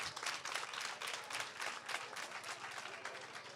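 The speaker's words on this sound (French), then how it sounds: "Je voudrais que vous vous applaudissiez," Women from a market crowd applauding at an International Women's Day celebration in Pahou, Benin, a steady dense patter of many hands clapping at moderate, fairly distant level with no pause.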